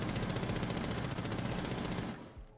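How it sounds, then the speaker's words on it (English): Rainbow Six Siege automatic gunfire at a wall: a dense, continuous rapid-fire burst, loud and close, that stops abruptly near the end and leaves a brief fading tail. "just shoot at the wall real quick over here"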